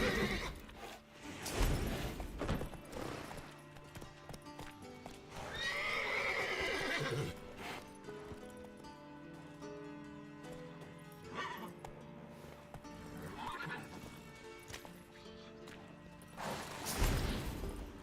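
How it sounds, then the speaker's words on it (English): Horses in the video game The Witcher neigh and whinny repeatedly, with clip-clopping hooves and a loud, drawn-out whinny in the middle, over a busy game soundscape with some crashing noises. "Gotta calm all the horses before they wake the guards."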